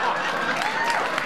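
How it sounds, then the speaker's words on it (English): Studio audience applause on a TV talk show, a dense, even wash of clapping with scattered voices layered over it. "I don't want your pity clapping."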